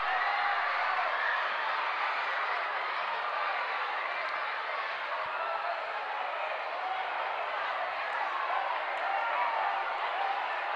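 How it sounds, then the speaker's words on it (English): A high school basketball crowd at Jonesboro vs Lovejoy gives a steady, broad roar of cheering and clapping that holds at an even level throughout, filling the gym without letup. "And the crowd's enjoying that across the board."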